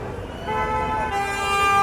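Car horns honk on a busy London street, one steady tone joined by another, over traffic rumble and nearby voices.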